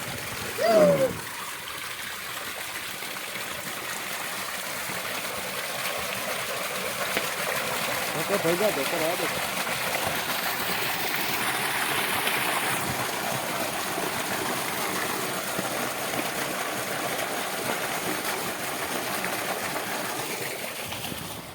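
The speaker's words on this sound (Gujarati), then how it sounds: "પાણી આવી ગયું, દોર ચાલુ થઈ ગયો" Irrigation water flowing into a field channel, a steady rushing trickle heard outdoors, with people talking over it and a brief knock near the start.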